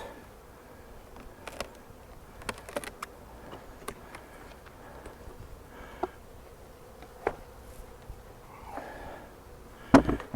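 Honey bees buzzing around double nuc hive boxes outdoors, a faint, continuous insect hum with scattered sharp knocks and handling clicks nearby, and one louder thump near the end.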